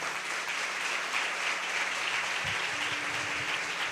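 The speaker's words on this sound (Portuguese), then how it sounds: "Pode aplaudir." An audience at a Catholic religious talk breaks into sustained applause, a continuous even clatter of many hands clapping, with a brief low thump partway through.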